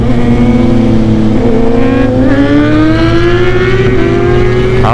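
Kawasaki ZX10 motorcycle in a racing video game, its engine revving loud and close, pitch climbing steadily through a sustained run with a brief shift near the end.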